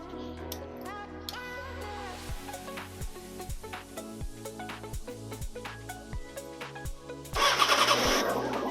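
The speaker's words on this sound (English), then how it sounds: "So, I'm going to start the bike." A motorcycle fresh from an oil change cranks in a rapid clicking starter rhythm for several seconds, then catches and fires into a loud, rough running engine at the end, up close and with no talking.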